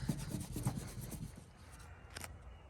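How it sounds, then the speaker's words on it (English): Clay bar rubbing across the rusty boot lid of a BA/BF XR6 Falcon, a steady close scrubbing rasp in repeated strokes that fades out after about a second and a half. "got the whole boot lid clay barred"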